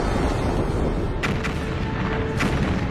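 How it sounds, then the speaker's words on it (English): A dramatized supernova, exploding stars shown with deep rumbling booms and sharp cracks over a heavy, continuous low roar, with a few distinct bursts rising out of the dense, loud wash. "Just a few million years after the first stars formed, some of them exploded. Wham!"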